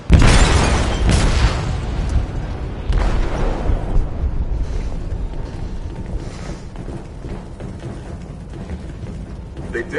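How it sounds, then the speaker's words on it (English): An explosive detonating in a ship's hold in the video game Detroit: a loud, deep boom at the start, then a long rumbling roar with debris and a second blast, slowly fading. "They detonated an explosive in the hold."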